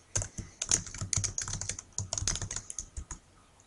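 Rapid, irregular keystrokes on a computer keyboard, close and fairly loud, with short clusters of taps and brief pauses; no voices.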